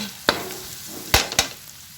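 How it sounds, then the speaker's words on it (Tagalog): Ginisang baguio beans sautéing in a pan, a steady low sizzle broken by three sharp clatters of a utensil stirring against the pan. "Hayaan mo siyang magisa ng magisa"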